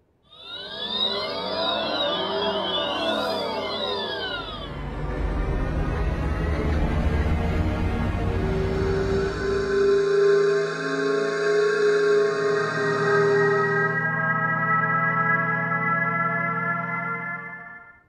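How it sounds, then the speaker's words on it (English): Several electric car pedestrian warning sounds play in turn with no talk: synthetic whirring and sweeping electronic tones, some with rising harmonic swoops, others steady layered hums and drones, each sample changing abruptly to the next at moderate, steady loudness. "Are you familiar with the acoustic alert for pedestrians? Well, if you are, you already know it's quite hard to do something original. Listen to a few sound bites."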